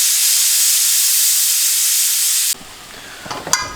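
A pressure cooker of rice gives a loud, steady hiss of escaping steam that cuts off abruptly, followed by a few close metallic clinks and clatters as the lid is opened.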